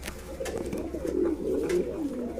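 A male yellow American pigeon coos in a loft, a steady run of low, rolling coo phrases close to the mic, with no talking over it.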